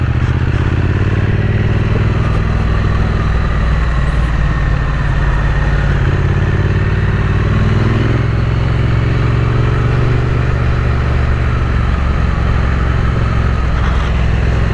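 Triumph Speed Twin 900 motorcycle (2024) engine under riding, a loud, continuous twin-cylinder drone with steady low rumble and wind, close and with no talk.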